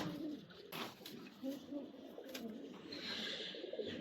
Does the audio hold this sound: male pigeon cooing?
yes